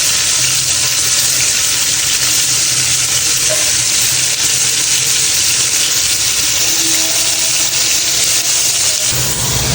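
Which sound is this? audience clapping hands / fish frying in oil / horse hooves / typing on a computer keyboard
fish frying in oil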